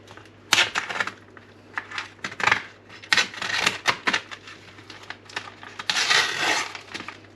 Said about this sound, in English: I think we're there for taking the packaging off